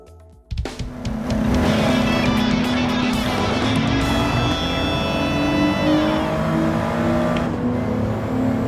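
A Porsche 911 race car in Gran Turismo 7 starts up and revs hard, its engine note climbing and holding loud and close, with rising harmonic whines and no talking.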